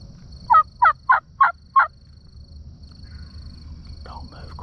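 An Osceola wild turkey gobbles five times in a quick rhythmic burst, fairly close, over a low outdoor rumble in Florida, followed by faint murmuring.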